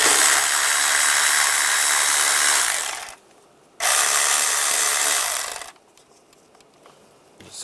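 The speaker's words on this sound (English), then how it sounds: "Using a 10mm socket, we're going to loosen up the worm clamps." A 10mm socket loosening worm-drive hose clamps on a 1996-2002 Toyota 4Runner engine, heard as two long bursts of dense, bright ratcheting or power-tool whir separated by a short gap, then quiet.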